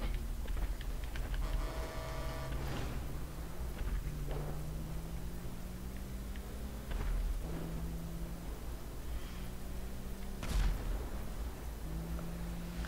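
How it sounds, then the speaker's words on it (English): Deep booming explosions in GTA 5 go off at intervals over a constant rumbling background, heavy and loud with low thuds. "Those explosions are so loud."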